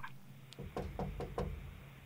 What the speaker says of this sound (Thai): มันมีเสียงคนเคาะหน้าต่าง